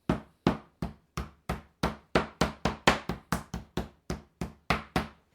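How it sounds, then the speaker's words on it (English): A meat tenderizer pounds a Finnish pork steak to thin it, giving about twenty steady, close thudding whacks in a fast even rhythm, each a sharp knock that quickly fades, with no talking. "I'll just take my meat tenderizer and give it a couple of good whacks."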